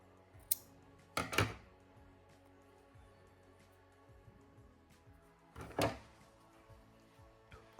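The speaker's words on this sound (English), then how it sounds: "You'll cut your yarn." Scissors snipping yarn for a crocheted apple pie turtle, a few quiet, sharp cuts heard close up, about two distinct snips several seconds apart in an otherwise quiet room.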